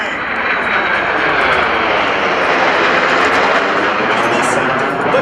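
F-22 Raptor and T-38 jets of the 1st Fighter Wing fly past at the 2016 AirPower Over Hampton Roads air show, making a loud, close, sustained roar that fills the whole stretch.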